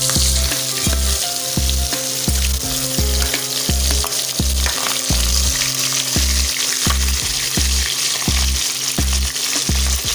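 Fish frying in plenty of mustard oil in a wok, a loud continuous crackling sizzle over a repeating rhythmic pulse of background music, no speech.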